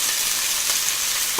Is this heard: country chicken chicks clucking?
no